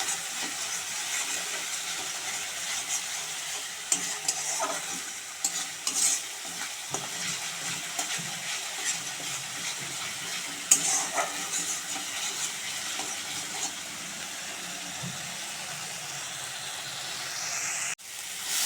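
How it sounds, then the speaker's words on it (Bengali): A spice mix with salt, turmeric and Kashmiri chilli powder for crab curry is sautéed in a pan, a continuous sizzle with repeated scraping stirs and occasional clinks of the spoon against the pan. "ভালো করে মশলাটা কষে নেব"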